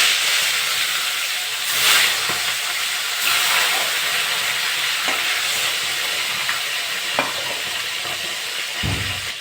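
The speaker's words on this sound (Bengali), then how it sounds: "মাছগুলো ভেজে নেব।" Tilapia fish fry in hot mustard oil in a kadai, giving a loud, continuous close-up sizzle and hiss with occasional crackling spits and no voices.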